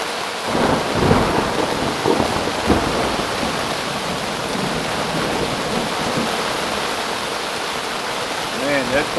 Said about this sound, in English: that thunder is clipping my volume